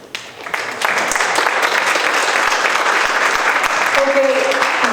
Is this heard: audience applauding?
yes